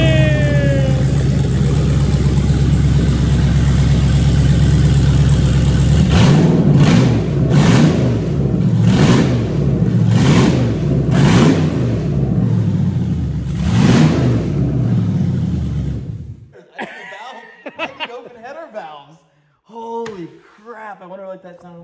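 A Jeep Wrangler JL engine roars and revs in repeated bursts with a harsh open-header exhaust, then cuts off and voices talk briefly.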